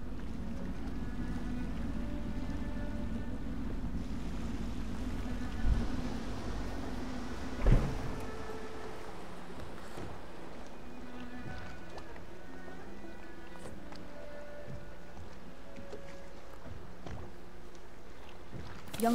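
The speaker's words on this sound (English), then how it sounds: "I should concentrate on piloting this boat." A boat piloted through water in the video game Dishonored gives a steady low rumbling drone that runs the whole time, with a couple of brief louder thumps partway through.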